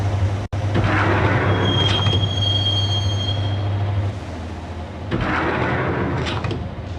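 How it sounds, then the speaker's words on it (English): A subway train rides through a tunnel in the Max Payne video game, a loud continuous rumble with high metallic wheel squeals, a brief drop in the roar midway, then a second swelling rush. "the train doors had already shut behind me, and I was in for the ride"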